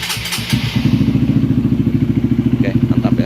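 A Honda CRF 150L motorcycle engine starts up, a brief cranking clatter giving way to a loud, close, steady single-cylinder thumping idle with rapid even pulses; a short voice is heard near the start.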